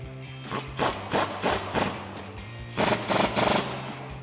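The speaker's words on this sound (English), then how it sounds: "And now we can reinstall our nut on the bottom of our stud and tighten that back down with our 18mm socket." An 18mm socket ratchets a steering stabilizer nut tight on a 2018 Jeep Wrangler JL, giving rhythmic rasping clicks in two close bursts of several strokes each, separated by a short pause.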